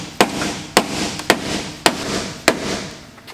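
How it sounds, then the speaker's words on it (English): A rubber mallet strikes a truck nose lip on a 2017-2022 Ford Super Duty nose being fitted to a 1999-2007 truck, five sharp, evenly spaced thuds close by, each with a brief ringing decay. "we're going to take the rubber mallet and we're going to simply bang it and fold it over"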